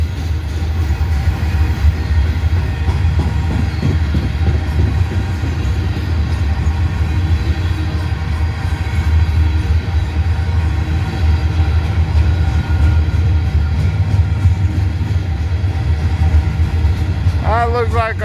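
Very long, heavy freight train with three engines rumbles past close by in a low, steady roar with rolling wheel noise, continuous throughout, with a brief squeal near the end.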